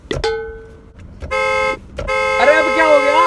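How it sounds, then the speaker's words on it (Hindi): Car horns honking in slow, congested Indian traffic: one short toot, then two longer sustained blasts, loud and close, the last one overlapping a second wavering horn. "अरे अब क्या हो गया भाई? वहां लिखे डोंट हॉन्क। तो हॉर्न बजाएगा क्या?"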